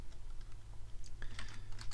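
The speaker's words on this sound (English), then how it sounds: "I'm typing computer science" Typing on a computer keyboard while entering text into a Microsoft Access database: a steady, close run of quick key clicks with a few louder taps, no voice.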